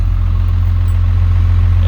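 A truck engine idling steadily while warming up on a farm, a loud, close, constant low rumble with a faint clatter that holds unchanged throughout, with no voices.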